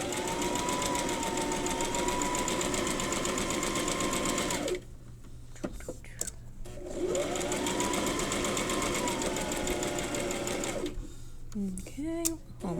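A sewing machine stitches fabric strips onto a quilt square in two long steady runs of loud, close mechanical whirring, separated by a pause with light handling and a voice talking.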